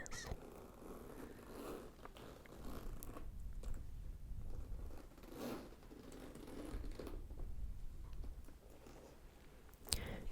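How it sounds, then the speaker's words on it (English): Double zipper on a luxury handbag being pulled open, a series of faint soft zipping rasps and small clicks, quiet and close in a hushed room. "This handbag closes with a double zipper that opens like this."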